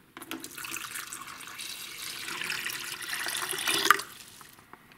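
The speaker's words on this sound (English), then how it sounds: "Pour in the water." Water poured steadily into a countertop ice maker's reservoir up to the max line, a continuous splashing rush lasting several seconds, close and alone.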